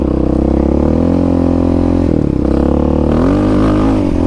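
Yamaha Raptor 700 ATV with a Dasa exhaust pipe and EHS tune, its big single-cylinder engine droning loud and close, holding steady revs with a slight dip and then a climbing rev at the end.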